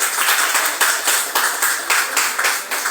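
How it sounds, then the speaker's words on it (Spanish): A church congregation gives a brief round of applause, a steady patter of many hands clapping with a loose rhythmic pulse, close and moderately loud for about three seconds. "Un aplauso al hermano ahí."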